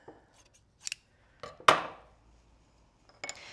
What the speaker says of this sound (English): so what I'll do is actually cut this down.